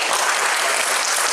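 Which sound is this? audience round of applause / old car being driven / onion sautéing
audience round of applause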